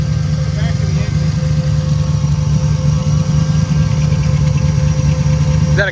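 An LS-swapped Conquest idling at a drag strip event, a loud, close, steady low engine rumble with a ticking, lifter-like noise from the back of the engine riding over it.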